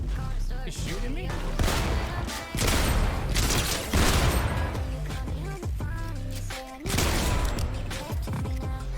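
Repeated bursts of gunfire and impacts in the video game Dark and Darker, loud and dense over layered game sound and music, with several heavy shots spaced across the stretch.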